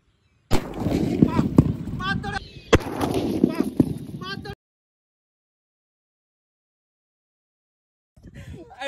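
Diwali firecrackers set off under a helmet burst in a dense crackling barrage lasting about four seconds, with a few sharper pops standing out, followed by silence and then faint voices.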